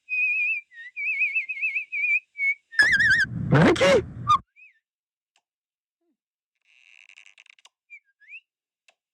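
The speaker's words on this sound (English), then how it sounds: "Where is that whistling coming from?" A person whistles a warbling tune in short phrases in a Simpsons cartoon, then a loud burst of noise cuts in; faint whistling returns later, quieter.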